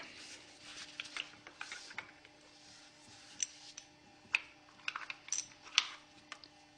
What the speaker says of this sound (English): you can remove the 2 remaining bolts from the oil filter cover and pull the oil filter out of the bike